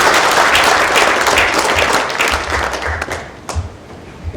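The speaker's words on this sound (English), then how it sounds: "another round of applause for His Excellency" An audience applauds His Excellency at a hospital foundation stone laying ceremony, with loud, dense clapping that thins out and tapers toward the end.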